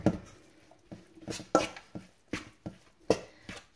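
Meatball mixture gets worked together with an added egg, giving a series of soft, wet slaps and thuds at an uneven rhythm, close and fairly quiet, with no talking.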